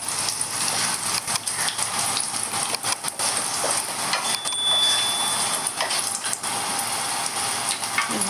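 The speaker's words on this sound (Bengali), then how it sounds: "একটু ভালো করে নাড়াচাড়া করে নেব।" Whole cardamom, cinnamon, cloves and bay leaves stirred in hot oil over a medium gas flame, a steady crackling sizzle with intermittent scraping clicks of the spoon against the pan, close and continuous.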